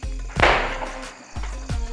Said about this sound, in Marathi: मी फटाके उडवत आहे